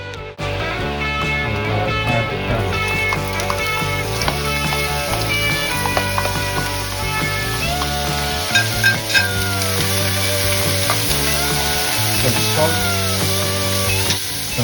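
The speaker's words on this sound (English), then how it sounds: "In a hot pan, add oil, garlic and crab meat in" Crab meat and garlic sautéing in oil in a hot pan, a continuous close sizzle broken by repeated scraping and stirring strokes of a utensil against the pan, with no talking.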